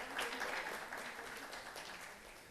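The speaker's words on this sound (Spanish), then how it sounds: "le aplaudimos desde ahorita" An audience at a seminar claps in a brief, faint burst of applause that stays fairly even and sounds distant.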